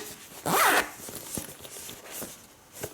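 A fabric zipper pocket, newly sewn, is zipped in one quick rasping pull, followed by soft rubbing and light handling of the cloth.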